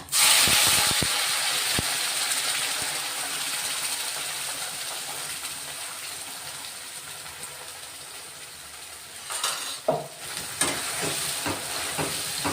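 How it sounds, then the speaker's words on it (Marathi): Ground masala paste with cumin and a bay leaf sizzles in a spoonful of hot oil, a steady loud hiss that slowly fades, broken by a few scraping stirs near the end. "तेलात चांगलं 2-3 मिनिटं परतून घेणार आहेत आपण हे वाटण"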